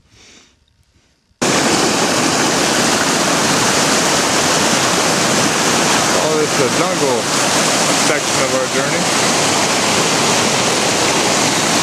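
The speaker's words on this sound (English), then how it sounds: "The river." A river in the Alaskan wilderness rushes loudly and steadily after a short quiet start, a close, dense wash of water that fills the rest of the clip while a person talks over it.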